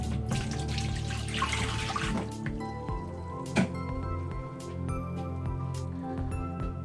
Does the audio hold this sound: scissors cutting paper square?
no